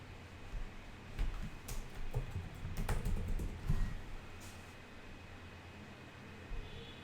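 Typing on a computer keyboard, soft scattered key clicks in short clusters, faint and close against a low hiss, tapering off into near quiet.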